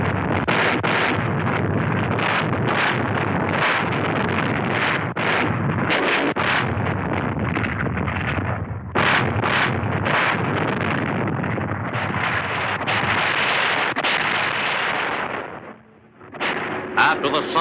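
Self-propelled 105 mm guns on tank chassis, 155 mm guns and 8-inch guns fire in a continuous, heavy barrage of rumbling blasts in WWII combat, loud and dense, with only a brief lull near the end.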